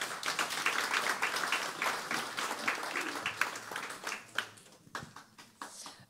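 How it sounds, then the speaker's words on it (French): Audience applause in a church gathering, dense clapping that is loud at first then thins out into scattered claps near the end, with a little background murmur. "Est-ce que vous pouvez l'applaudir, s'il vous plaît?"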